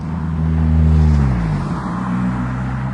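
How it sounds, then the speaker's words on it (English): A noisy car engine passes close by near a park-and-ride site, its droning tone swelling loud and then easing away over about three seconds, with no talking. "That's a noisy engine actually."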